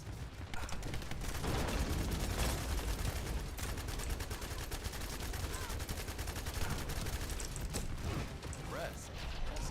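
Rapid bursts of gunfire from a shooter video game run almost continuously at steady loudness, with clicks and mechanical rattles from weapon handling and reloading mixed in throughout.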